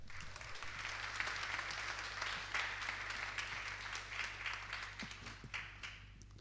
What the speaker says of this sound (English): A round of applause for the editor of Ziarul Financiar, Adrian Secereanu.